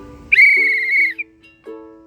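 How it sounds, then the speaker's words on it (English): A single long, shrill whistle blast used as a signal holds for nearly a second, followed by softer, lower tonal notes, clear and close. "When you hear that whistle, stand up and say the buddy check."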